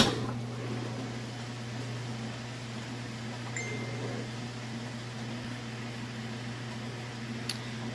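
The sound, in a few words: Kenmore washer in its final spin cycle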